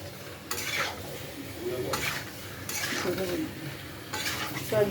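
Potatoes are stir-fried in a pan for a vegetarian aloo dum, with a soft sizzle broken by several distinct bursts of spoon-scraping and stirring against the pan.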